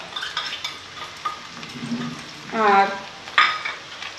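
Ginger garlic paste dropped into hot spices frying in a pan, with a burst of sizzling and clinks of a spoon stirring against the pot, under a brief spoken word.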